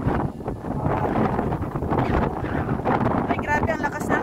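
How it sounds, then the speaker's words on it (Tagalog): Strong wind buffets the microphone in a constant roaring rumble, with a voice speaking briefly over it. "grabe ang lakas ng hangin guys"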